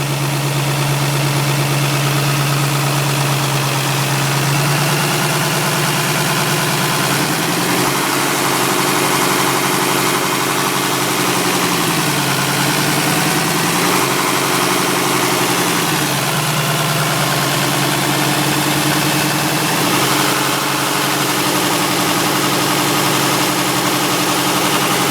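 A 2003 Mercedes ML 400 diesel engine idling loudly up close, its steady drone rising in pitch several times as the revs are brought up gently and eased back down, with no voices.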